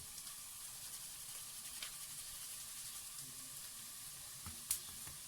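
Chili and red radishes sizzle and toast on top of onions in a pan, a steady close hiss of frying with faint stirring clicks and one brief sharper crackle near the end.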